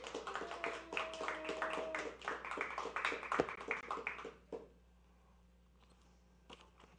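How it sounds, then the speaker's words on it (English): A canned clap track plays in a TV studio: dense, fast applause-style claps keep going for about four and a half seconds, then cut off abruptly, leaving near silence with a faint tap or two. "to get me a clap track for Prophet Marquez"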